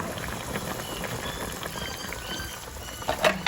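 Sinigang soup bubbles and patters steadily at a rolling boil in a pot, a dense crackling texture with a couple of louder pops near the end.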